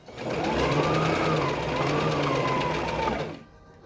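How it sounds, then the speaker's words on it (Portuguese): A sewing machine runs steadily for about three seconds, stitching around the edge of a fabric face mask, its fast, even whir close and loud before stopping abruptly. "eu vou costurar dando a volta todinha na peça"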